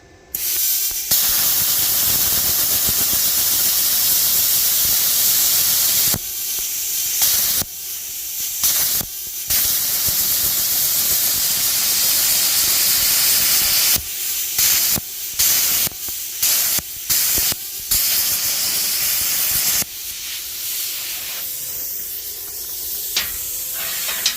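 Compressed air hisses loudly from a CUT50 plasma cutter being dialed in, a steady roaring rush broken by a series of short cutoffs and restarts, then a slightly quieter hiss near the end.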